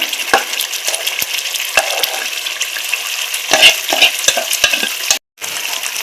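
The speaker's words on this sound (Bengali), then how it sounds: "ওই বাটাটাও খানিকক্ষণ কষাবো যাতে এটার থেকে তেল ছাড়ে" Ground spinach paste sautéing in hot oil for palak paneer, a steady close sizzle broken by repeated scrapes and taps of a spoon stirring against the pan, with a brief silent gap near the end.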